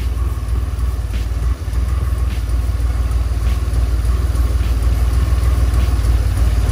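A DeLorean DMC-12 engine with mechanical fuel injection idles steadily with a possible intake leak, giving a loud, close, continuous low rumble that holds even throughout, with a brief dip midway and no voices.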